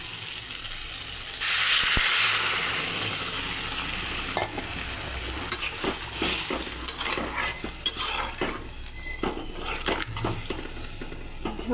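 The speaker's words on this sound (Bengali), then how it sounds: "এখন ঝোল দিয়ে দেব।" Broth is poured into a pan of frying spice paste with fried potatoes and eggplant for a Tengra fish curry. A loud hissing rush swells and then eases into an even sizzle, broken by scraping stirs and clanks from a spatula.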